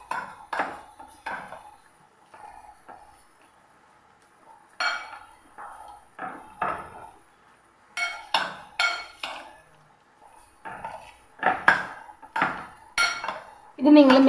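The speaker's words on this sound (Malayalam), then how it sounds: "ഇനി നമുക്കിതൊരു മാഷർ വെച്ചിട്ട് ഒന്ന് മാഷ് ചെയ്ത് എടുക്കണം." Small bananas being mashed with a masher in a bowl, a series of close clinks and knocks of metal against the dish in uneven bursts, with short pauses in between.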